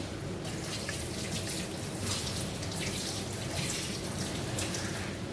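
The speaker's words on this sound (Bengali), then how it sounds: "হাতটা ধুয়ে নেই।" Hands are washed under a running kitchen tap, a soft, steady stream of water splashing in a sink, with uneven splashy bursts as the hands move under the flow.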